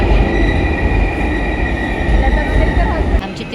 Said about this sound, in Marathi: फायनली मेट्रो आली आम्ही मेट्रोची वाट बघत होतो